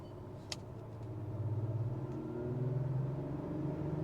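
Acura TLX Type-S with a V6 turbo engine accelerating from inside the cabin, a low, steady engine drone rising in pitch and swelling in loudness, with a brief click near the start.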